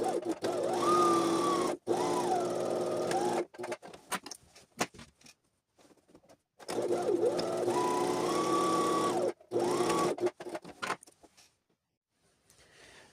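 A sewing machine stitches a pocket seam on trousers in two long, close runs of steady mechanical whirring, each cut by brief stops and followed by quiet handling.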